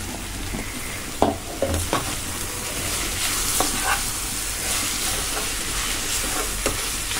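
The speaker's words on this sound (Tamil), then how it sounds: "நல்லா தக்காளி போட்டு நல்லா கலந்து விட்டுருங்க." Onions and tomatoes sizzle in a pan for a rajma paneer gravy, with a steady frying hiss broken by several clinking stirs of a spoon, close and clear with no talk.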